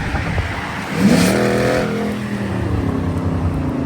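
Loud muscle car engines, including Mustangs and Camaros, rev nearby in a small-town street, one surging sharply before settling into a throaty rumble, with no talking.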